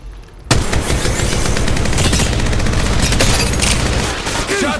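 Dense, continuous gunfire from the mobile battle royale Apex Legends Mobile, a loud unbroken fusillade of rapid shots that bursts in after a brief quiet opening and keeps hammering to the end.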